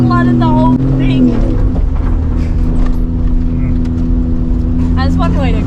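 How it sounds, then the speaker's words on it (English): A 4WD car pushes through roughly metre-deep floodwater on the Holland Track, with a loud, continuous engine drone and water churning close by, and excited voices talking over it. "This is so deep. We're about a metre underwater."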